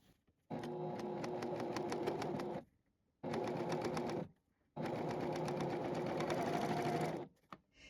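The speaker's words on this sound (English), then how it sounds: "As I sew the casing, I'm making sure I'm keeping the ribbon to the right so it gets sewn inside that stitch." A JUKI sewing machine stitching a fabric casing with ribbon tucked inside runs in three steady, loud mechanical bursts with brief pauses between, close up and without talk.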